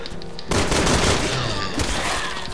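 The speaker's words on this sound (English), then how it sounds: "I just put enough shots into your head to kill her" Rapid gunfire in the zombie shooter Resident Evil 6, a loud burst that starts abruptly and keeps going as a dense volley over game noise.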